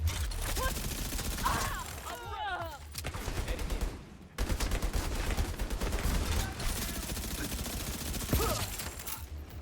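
Gunfire in The Division 2 rattles in dense, rapid volleys with brief pauses between them, loud against a busy combat mix, while short voice callouts cut in now and then.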